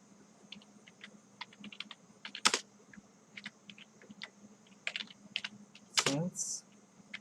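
Keyboard typing while entering a font name into HTML code, with irregular quiet key clicks in short bursts and a couple of louder clacks, under a low steady hum.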